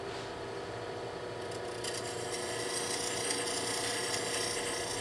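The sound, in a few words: woodturning tool doing a shear cut scrape on wood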